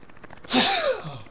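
A single, sudden, close sneeze bursts out of a quiet room and fades into a brief breathy tail.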